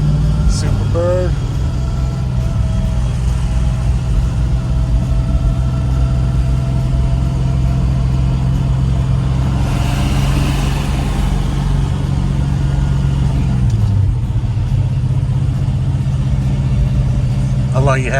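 A Plymouth Superbird muscle car sits at a speedway, its engine idling with a steady low rumble that runs throughout. People talk nearby over the engine, and a brief rise in pitch comes near the end.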